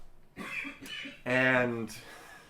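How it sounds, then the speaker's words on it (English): One harsh cough bursts out between a few short vocal sounds, close to the microphone. "you're coughing in the background"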